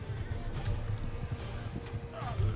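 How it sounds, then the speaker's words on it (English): A horse gallops in the Mount & Blade 2 Bannerlord video game, steady clip-clop hoofbeats mixed with a brief whinny under a battle din, with a voice talking over it. "this horse I'm on really is slow"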